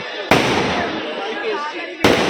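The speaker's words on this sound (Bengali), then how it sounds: "মোটু পাত্রগুলো মানে কি সুন্দর বাজি ফাটছে" Fireworks burst overhead at a wedding reception in Baruipur: two loud, sharp blasts with a dense crackling rush between them, while voices carry on nearby.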